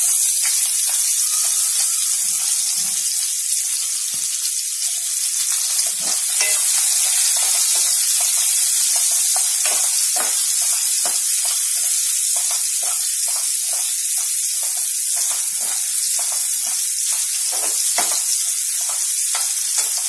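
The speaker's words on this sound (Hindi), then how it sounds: "कांदे को हमने अच्छी तरह से फ्राई होने देंगे।" Chopped onions fry in an oil-filled pan for a chole sev sabji, giving a continuous loud sizzling hiss broken by frequent small crackles and pops.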